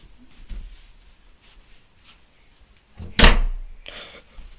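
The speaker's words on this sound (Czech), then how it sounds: "Jak to, že se ty dveře sami zavřely?" A door swings shut on its own with a single loud thud, alone in an otherwise quiet room with faint background rustling before it and a soft knock after.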